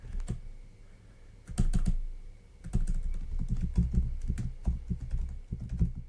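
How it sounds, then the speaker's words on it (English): Rapid clattering keystrokes on a computer keyboard in uneven bursts, with short pauses between runs of typing, close and fairly loud. "enough of hearing me typing with that stuff"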